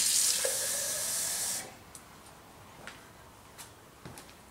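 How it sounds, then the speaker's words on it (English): A kitchen tap runs water into a water bottle, a loud steady hiss for under two seconds before it cuts off, followed by a few faint clicks and knocks of the bottle being handled nearby. "we want to fill our water bottle about 1/3 of the way up from the bottom."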